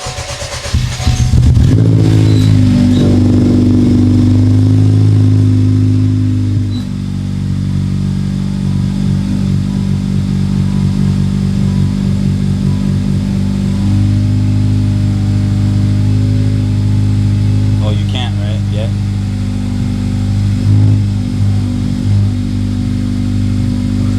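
A Honda Civic Type R FL5 with an RV6 downpipe cold-starts with a loud crank and a flare of revs, then settles into a deep, steady, droning high idle that carries on alone, close up.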